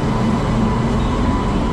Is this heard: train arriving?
yes